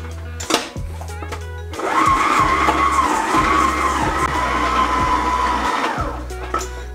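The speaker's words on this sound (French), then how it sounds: "on va mélanger ceci pour obtenir une texture crémeuse avant d'ajouter le reste" An electric mixer creams butter and sugar for cookies, whirring loudly and steadily for several seconds after a few short starts, then cutting off near the end.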